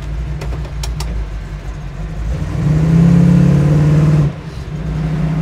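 A 1967 Chevrolet Camaro SS drives off with a loud, close engine drone that builds into a stronger revving rise mid-clip, then drops back. No one speaks.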